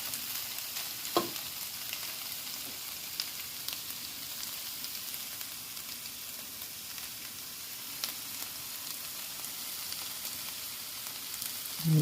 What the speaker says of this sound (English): then I put it back in the frying pan, guys. So I'm just gonna keep turning it and turning it until it fully cooks